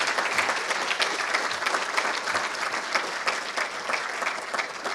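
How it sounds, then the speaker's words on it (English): Steady applause from an audience at a surgical technology commencement ceremony, continuous clapping at moderate level throughout with a slightly uneven, pulsing texture. "Give them a round of applause."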